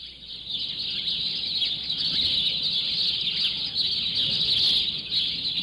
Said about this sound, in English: At 7 o'clock, the birds arrive.